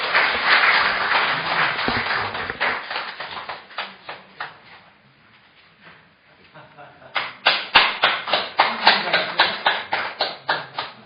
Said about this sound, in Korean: 여러분들 정원서 목사님 소개 올리겠습니다. 뜨거운 박수로 맞아주시기 바랍니다.